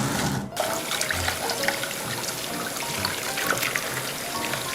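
Running tap water pours and trickles steadily over a giant clam being rinsed, a continuous near splashing wash with no talk.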